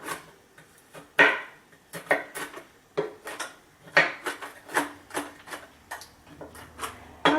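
A knife chops walnuts on a cutting board in slow, uneven strokes, each one a sharp close tap with gaps between, about fifteen hits spread over several seconds.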